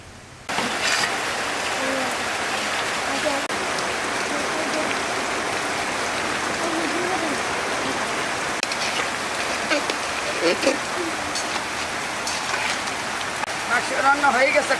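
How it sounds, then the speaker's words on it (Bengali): Rain pours steadily during outdoor home cooking of country chicken with ash gourd, a dense, even hiss with scattered louder drips, while a voice talks faintly over it. "ভিডিওর ভিতরে বৃষ্টি শুরু হয়েছে।"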